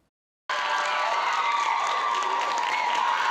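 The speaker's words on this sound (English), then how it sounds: "Phoenix Council chambers echoed with applause as the Phoenix City Council voted 5-4" Applause and cheering fill the Phoenix City Council chambers after a 5-4 council vote, a steady dense roar of many hands and voices that begins abruptly after a short silence.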